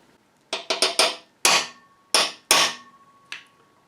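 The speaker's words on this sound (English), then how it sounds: "I'm going to take this punch and make a little starter hole." About eight sharp metallic hammer blows strike a steel punch to dent a starter hole for drilling during a DIY gate repair, close and ringing, in an uneven quick cluster then spaced-out hits.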